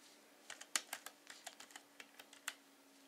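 Fingers type on a keyboard connected through an OTG cable to a Samsung Galaxy Tab, producing a quick, uneven run of crisp plastic key clicks, close and fairly quiet, with no talking.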